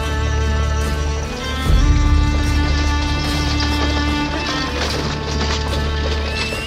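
A horse-drawn carriage approaching a village headman's house, with dense rhythmic hoof clatter and wooden rattling over a steady low rumble, loud and continuous throughout the clip.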